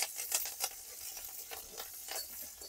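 Garlic, onion and chili dropped into hot oil with cumin that has already browned, giving a steady crackling sizzle with a few sharp spits and stirring scrapes near the start, moderately loud and close.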